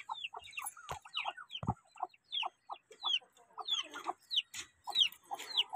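Chickens cluck in quick, scattered bursts close by, with a few sharp knocks and rattles mixed in.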